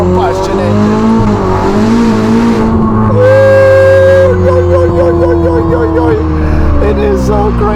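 A Novitec-exhausted Ferrari SF90 Spider with 1109 hp revs loudly and close, its exhaust rising and falling in sharp surges, with a brief screaming peak partway through.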